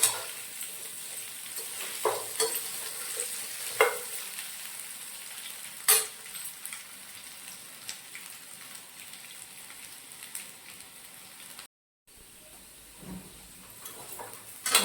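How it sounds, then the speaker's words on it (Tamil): Sweet potato slices fry in hot oil in a pan with a faint, continuous crackling sizzle, broken by a few sharper scrapes of stirring. "நல்லா ஃப்ரை ஆயிடுச்சு"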